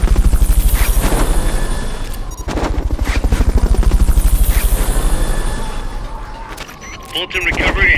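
Rotor thump of the Fulton recovery helicopter in Metal Gear Solid Peace Walker, a loud steady chopping drone under game voices, with bursts of gunfire and an abrupt break near the end.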